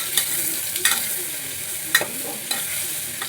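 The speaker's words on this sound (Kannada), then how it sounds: "ಇವಾಗ ನಾನು ಶುಂಠಿ ಬೆಳ್ಳುಳ್ಳಿ ಪೇಸ್ಟ್ ಹಾಕ್ತೀನಿ." Ginger garlic paste sizzles steadily in a hot pan while a spoon stirs it, scraping sharply against the metal every second or so, close up with no voices.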